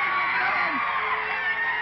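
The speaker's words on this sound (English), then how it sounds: "What are you people cheering Butch Miller for?" Crowd at a professional wrestling event cheering for wrestler Butch Miller, a steady, dense roar of many voices with whoops and shouts that holds at an even loudness throughout.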